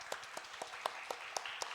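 A Korean church congregation at a Friday prayer meeting claps in welcome for visiting guests. The claps are soft, rhythmic and evenly spaced, fairly distant and quiet.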